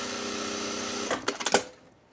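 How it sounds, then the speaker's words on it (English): Industrial sewing machine running at a steady hum, then slowing to a few distinct individual stitches near the end before stopping; close and fairly quiet, with no talking. "People tell you you can't control the speed on an industrial machine."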